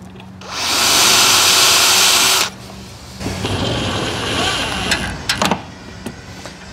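A power drill drives screws into a garage door hinge with one loud, close whirring burst of about two seconds, followed by quieter mechanical rattling and a few sharp knocks as the screws seat.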